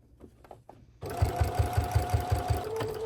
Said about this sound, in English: Now this one's ready for me to sew.